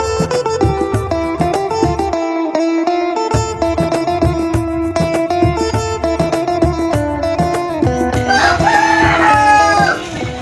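A Black Sussex cross BPR rooster crows amid a dense backdrop of other poultry calls, with layered harmonic cries running continuously and a brighter, louder crow rising near the end.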